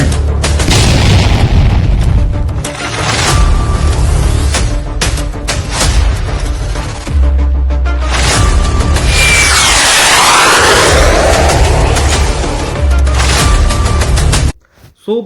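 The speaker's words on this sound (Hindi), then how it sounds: "जो ब्रह्मोस मिसाइल का टेस्ट किया था" A BrahMos missile test launch roars out as a loud, sustained boom and rushing blast that fills about fourteen seconds before cutting off abruptly, with no voices.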